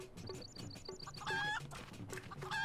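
Chickens cluck in short rhythmic bursts over bouncy game music and sound effects in Final Fantasy XIV's Hildibrand questline, with bright chiming tones cutting in.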